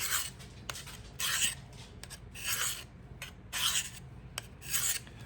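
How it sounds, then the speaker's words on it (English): A knife is drawn across a 600 grit sharpening stone in repeated rasping strokes, about six even scrapes with short pauses between, close and clear with no talk. "So you're just pulling the knife across it. Then you go to the 600 grit."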